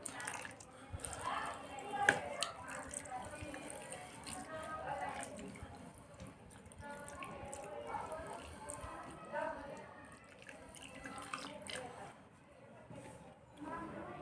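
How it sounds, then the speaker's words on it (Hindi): Water splashes and drips while a gas burner is rinsed at a kitchen sink, a soft continuous trickle with small splatters, heard faintly under a person talking. "अभी इसको हम अच्छे से पानी से वॉश कर लेंगे।"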